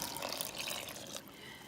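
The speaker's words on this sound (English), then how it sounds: "That's in, and now our water goes on top." Water is poured from above onto flour in a bread maker pan, a soft, steady splashing trickle that lasts a second or so and then thins out, quiet and close, with no speech.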